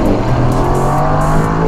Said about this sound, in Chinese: 你就能享受那一种V8 引擎瞬间饱满扭力炸开的那一种耀色感